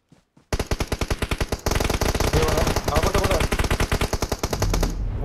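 Rapid automatic gunfire in an online shooter game, a long, loud, steady burst of shots fired close by, with a brief pause early on and then continuous firing, and players talking over it.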